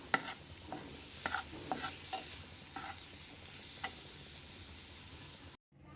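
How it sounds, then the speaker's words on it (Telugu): Carrot rice frying in a pan as sambar powder is stirred in, with a steady close sizzle under repeated scraping stirs of the spoon. "సాంబార్ పొడి వేసి అది కూడా 1 నిమిషం కలుపుతూ వేయించుకోవాలి."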